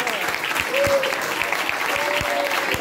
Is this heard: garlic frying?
no